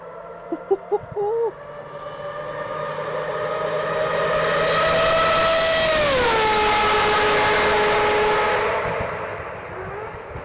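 A Mazda 787B race car closes in from far off, its high rotary engine wail swelling to a loud peak and dropping in pitch as it screams past at high speed before fading, with a few brief sounds at the start.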